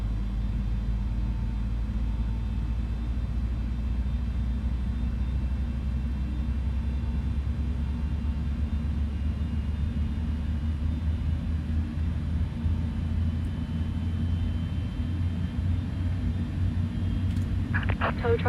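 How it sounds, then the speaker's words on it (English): A simulated Airbus A310 in a flight simulator brings its number 1 engine to life, producing a steady low rumble and drone that holds throughout, with a few faint clicks near the end. "engine number 1 is now started"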